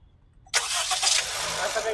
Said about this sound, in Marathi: तुम्हाला इंजिन नॉईज दाखवतो मी.